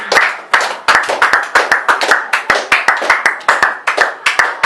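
A church congregation clapping to acclaim the Lord, many hands beating in a fast, even rhythm, loud and close, with no pause across the stretch.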